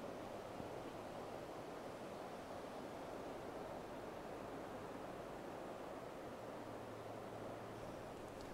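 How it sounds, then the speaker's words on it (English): Steady broadband rush of the wild and scenic Chattooga River flowing nearby, a continuous even wash of water with no talking. "I came across the wild and scenic Chattooga River"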